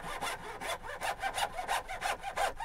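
An unsharpened handmade dovetail saw, its teeth without set, makes test cuts in wood: a steady run of rhythmic push-and-pull rasping strokes, close and fairly loud, with no voices.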